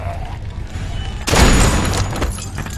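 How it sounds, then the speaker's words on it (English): A single loud, sharp gunshot from The Walking Dead: 400 Days video game bursts out suddenly after a quieter stretch of low rumbling background, its noisy blast lingering briefly. "It was a gunshot. Of course it was loud."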